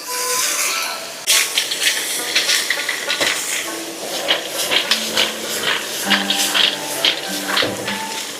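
Spices, aromatics and river snails stir-fried together in a hot wok with cooking wine, giving a steady loud sizzling hiss broken by repeated metallic scrapes and clatters of the spatula against the pan.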